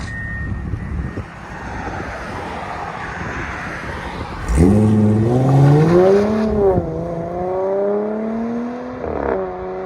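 An Audi A7 3.0L supercharged V6 with full downpipes and an AWE exhaust revs up sharply and loudly, rising and falling in pitch, with traffic and construction noise in the background.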